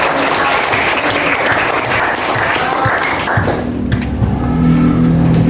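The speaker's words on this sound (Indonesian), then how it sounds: "Oke, tepuk tangan kalian." Students applaud in an Indonesian classroom, a dense steady wash of clapping that continues throughout, with a low rumbling hum rising underneath toward the end.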